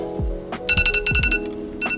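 An electronic timer alarm beeps in quick repeating bursts of bright tones, loud and close.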